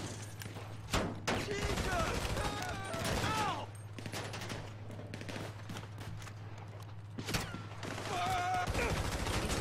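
Sustained gunfire during a Fleeca bank heist in GTA V, with dense rattling bursts continuing throughout and sharp peaks near the start and end, mixed with voices talking.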